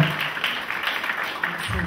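Audience applause at a sports awards ceremony honouring the athletes and coaches of the year, a steady, dense patter of many hands clapping in a hall, fairly loud and continuous throughout.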